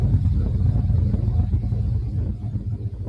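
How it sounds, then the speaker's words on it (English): A steady low rumble drones on throughout from a distant generator, dense in the low end with no clear changes. "The low rumble sounds like a generator running in the distance."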